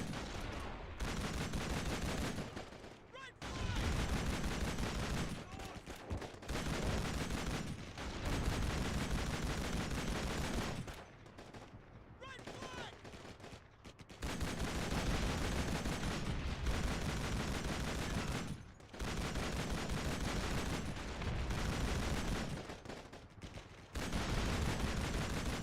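Dense, continuous gunfire from the World War II shooter Call of Duty 2: Big Red One on a PS2, with sustained volleys of rifle and machine-gun fire broken by a few brief pauses.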